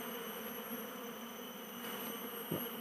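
A wild bee colony gathers back at its nest hole after a failed relocation, a steady, faint, droning buzz of many bees, continuous and unaccompanied by any voice.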